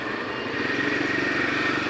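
Motorcycle engine running steadily nearby as the bike is loaded for transport, a continuous loud rumble with slight clatter and no talk over it.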